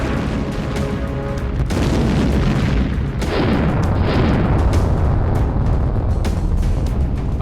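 Challenger tank firing shells during training, heavy booming blasts with long rumbling roar and sustained loud low noise throughout, distant reports layered in.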